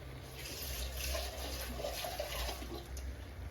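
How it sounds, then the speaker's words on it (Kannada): Water poured into a pot of sprouted gram sambar, a steady soft splashing and trickling that runs unbroken for about three and a half seconds, close and moderately loud with no talking. "ಒಂದು ಸ್ವಲ್ಪ ನೀರು ಹಾಕೋತಾ ಇದ್ದೀನಿ."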